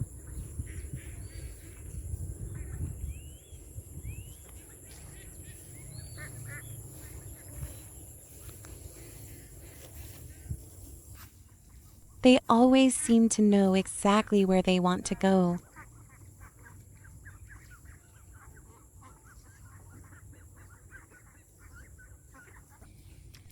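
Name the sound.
chickens and ducks outdoors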